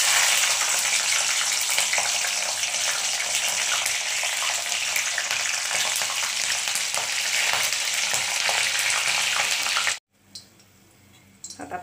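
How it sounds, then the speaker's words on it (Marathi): Green chilies fry in hot oil with a loud, dense, close sizzle that crackles steadily, then cuts off abruptly near the end, leaving only a quiet background with faint clatter. "आता आपण मिरच्या तळू।"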